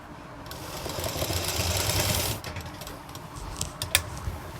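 A sewing machine runs a quick burst of stitching on dhoti salwar fabric, a rising whirr for a couple of seconds, followed by softer clicks and handling noises.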